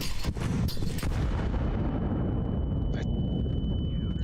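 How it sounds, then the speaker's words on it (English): A flashbang grenade detonates in Counter-Strike 2 with a few sharp, loud bangs at the start, then fades into a steady high-pitched ringing tone under low rumbling game noise. "Deploying flashbang."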